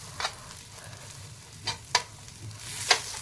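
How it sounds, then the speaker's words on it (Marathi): Chopped bitter gourd sautéing in a pan for chutney, with a soft steady sizzle broken by a few spatula scrapes and metallic clinks, close and without speech. "तर छान शिजेपर्यंत आपल्याला ती परतायची आहे।"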